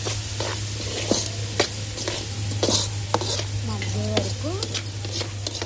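Onions frying with salt in a pan, stirred by hand, give a close steady sizzle punctuated by regular scraping strokes; a faint brief voice-like sound surfaces near the end over a low constant hum.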